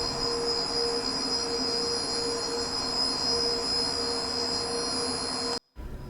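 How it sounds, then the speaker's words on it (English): Screw cavity pumps in a sewage plant pump house move sludge: a constant loud mechanical drone with steady high whining tones, cutting out for a moment near the end before resuming. "these screw cavity pumps send it to the thickening building"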